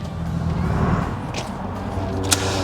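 A car idles and rolls to a stop outside a motorsports dealership, a steady low engine rumble close by with a couple of faint clicks and knocks over it.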